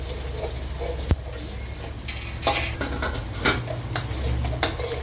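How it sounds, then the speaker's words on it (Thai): Egg fried rice being stirred in a pan, with light scraping and clinks of a utensil against the metal, a sharper knock or two standing out over steady kitchen background. "คนในกระทะนะครับ"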